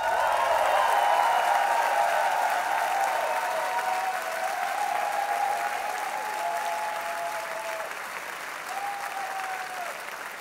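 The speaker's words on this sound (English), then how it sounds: "can you give them a huge round of applause?" Concert audience at a show at Koko breaking into loud, sustained applause with scattered cheers and whistles, steady for about ten seconds and slowly tapering off.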